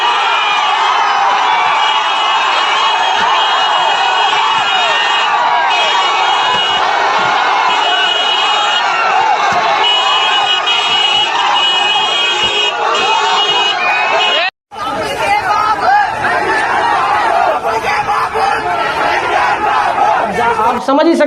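A huge crowd of Pawan Kalyan supporters roars, chants and cheers without letup, loud and dense. A brief cut near the middle switches to a different, equally noisy stretch of the crowd.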